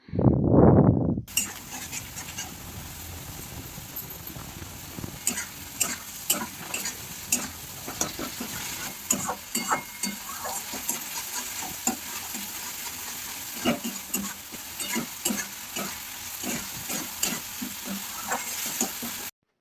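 Chopped tomatoes fry in a pan of oil for Odia-style cabbage besar, a steady close sizzle broken by frequent clinks and scrapes of a stirring spoon; a brief loud burst opens the clip, and no one speaks.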